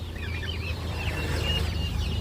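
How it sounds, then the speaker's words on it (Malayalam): Laying hens cluck and chirp continuously at the Chattiparamba roadside poultry market, a dense steady chatter of birds over low market background noise. "ഇത് മുട്ടക്കോഴിയാണ്"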